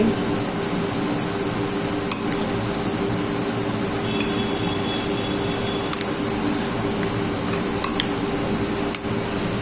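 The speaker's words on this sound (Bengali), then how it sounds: "এবার দিয়ে দিচ্ছি কর্নফ্লাওয়ার এবার মেখে নিচ্ছি আবারও সব কিছুর সাথে" Soya chunks being mixed with cornflour in a bowl for crispy soya fry, with steady utensil scraping and occasional sharp clinks against the bowl over a constant low kitchen hum, no talking.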